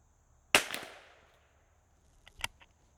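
A single sharp crack from a .22 Long Rifle round fired from a Sako Quad rimfire rifle into a clay block, ringing out briefly outdoors, followed by a few faint clicks and handling noises.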